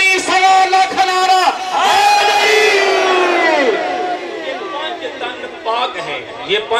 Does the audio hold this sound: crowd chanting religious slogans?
yes